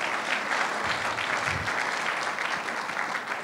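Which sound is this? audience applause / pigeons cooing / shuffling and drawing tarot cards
audience applause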